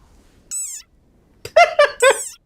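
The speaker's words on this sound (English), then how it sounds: "Like this desert rain frog. Squeaking viral sensation." Desert rain frog giving high, squeaky calls: one short squeak, a pause, then three quick squeaks close together, loud and near with nothing else around them.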